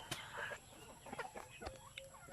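Black Australorp chickens on a free-range farm, with soft, faint clucks and scattered calls over a low outdoor background, and a few nearby rustles.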